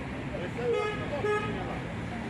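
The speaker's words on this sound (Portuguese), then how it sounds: "Ó, a turma buzinando." Car horns honk in a busy street at Praça Marechal Eduardo Gomes, a few short toots rising over steady traffic noise and crowd murmur.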